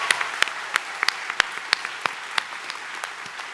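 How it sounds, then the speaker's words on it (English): Applause at a university graduate commencement ceremony, a moderate, somewhat distant crowd clapping with sharp individual claps standing out at a steady, sustained pace. "One big, more rousing round of applause."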